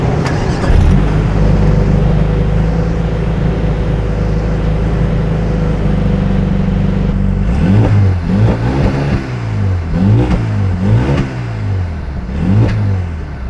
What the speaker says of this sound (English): I'm ready to take it for a spin. I hope you are too, so let's go.